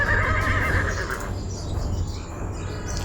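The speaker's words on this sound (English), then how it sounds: "horse," A horse whinnies loudly at the start, a high wavering neigh lasting about a second, then trails off into a steady low background hum.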